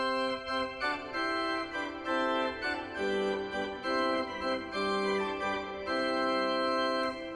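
The high mixture stop on the choir division of the Gloucester Cathedral pipe organ plays a sustained, bright, shimmering chord sequence with many ringing upper overtones, steady and loud without any voices.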